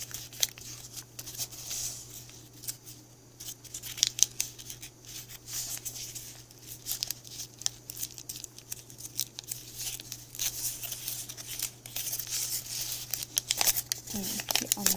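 Paper folded and creased for a box-pleated origami knight, soft crinkling and rustling strokes close by with faint handling sounds, a low steady hum underneath.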